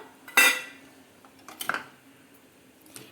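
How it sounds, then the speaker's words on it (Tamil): A pan of coconut milk and poha mixture for a sweet halwa gets a sharp metallic clatter of a spoon against the pan, then a second scraping knock and a faint tap, with no voices. "சேர்த்துட்டு இது நல்லா கலந்து விட்டுடலாம்"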